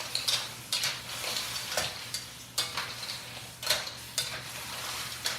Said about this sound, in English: Okay, now it's time to dump in the Thai basil. And now it's just a quick stir.